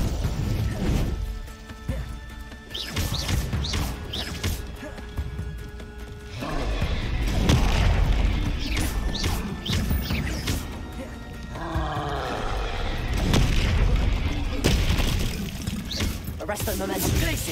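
Confringo fire blast spells in Hogwarts Legacy land as repeated crashing, thudding explosions amid chaotic combat noise, with voices and grunts heard between the blasts.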